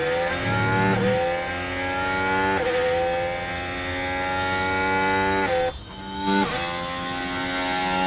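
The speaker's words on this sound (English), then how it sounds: "looking on Piastri, this is the Mercedes engine." A Mercedes Formula 1 engine in the video game F1 Manager 24 screams through repeated upshifts, each gear rising in pitch, with a short drop near the end before revving again.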